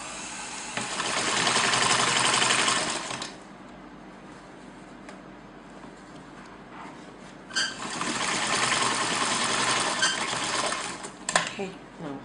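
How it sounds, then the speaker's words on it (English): A sewing machine stitches the base of a cap in two steady bursts of whirring, the first ending around three seconds in and the second after a quiet pause, with faint talking in the background. "now we're done sewing the base."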